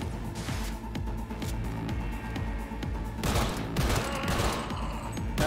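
Gunfire in the Cyberpunk 2077 video game: dense, rapid bursts of shots run continuously, loud and close, swelling into a heavier volley toward the end with no voices.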